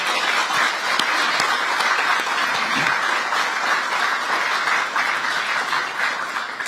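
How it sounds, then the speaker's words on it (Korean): A large indoor audience in Busan applauds continuously throughout, dense and steady, welcoming the labor and management representatives of a shipping line at the opening ceremony of the relocated Ministry of Oceans and Fisheries. "여러분께서도 환영의 박수 다시 한번 부탁드립니다"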